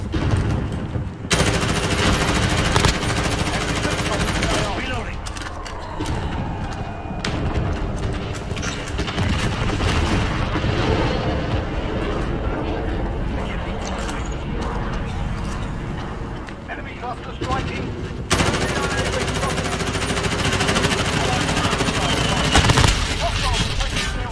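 Rapid bursts of automatic gunfire and booming shots from the video game Call of Duty: Modern Warfare, loud and nearly continuous, with brief lulls and a voice talking over the shooting.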